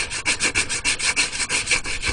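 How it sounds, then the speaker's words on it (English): Fine sandpaper rubbed over a helmet during restoration, a steady rhythmic back-and-forth scraping with about a dozen even strokes, close and fairly loud, with no talking. "I'm using some slightly finer sandpaper this time"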